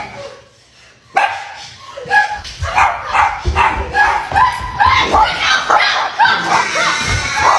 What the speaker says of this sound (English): Now you see why he was barking.